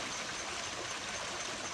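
Creek water rushes steadily where Blackburn Run empties into Octorara Creek, a constant close broadband wash of flowing stream with no pauses or voices.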